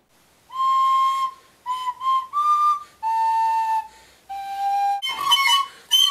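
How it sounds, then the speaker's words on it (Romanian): A series of clear, sustained whistled notes at varying pitches, a short melodic phrase with pauses between notes, ending in a breathier, noisier whistle. "are talent la fluier"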